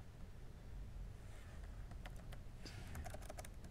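Computer keyboard typing while entering values into Maple math software: a run of light, quick clicks, closely miked against a steady low background hum, with no speech.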